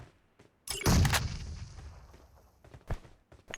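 Loud burst of gunfire in the battle royale game PUBG, coming from below, a sharp blast with a long ringing tail and a few fainter shots after it.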